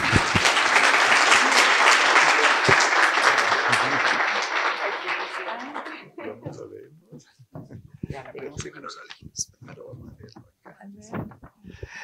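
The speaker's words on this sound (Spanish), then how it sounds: "Un aplauso para la doctora Pilar" A gastroenterology conference audience at ACADI 2023 applauds Dr. Pilar Nos on her honorary membership, a full, dense round of clapping that fades out after about six seconds into scattered claps and room noise with a few voices.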